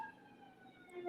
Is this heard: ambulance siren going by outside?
yes